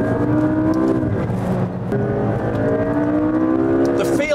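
McLaren 12C Spyder with a twin-turbo V8 pulling hard at speed, a loud continuous engine note with rising harmonic tones throughout, a brief dip near the middle, and a driver talking over it.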